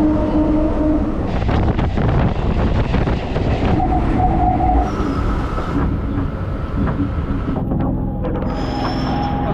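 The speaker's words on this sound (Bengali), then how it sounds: "ট্রেন আমাদের ছেড়ে দিয়েছে" A moving passenger train departing Sealdah station rumbles steadily, with loud continuous wheel and carriage noise, rattling and occasional squealing tones, heard from on board throughout.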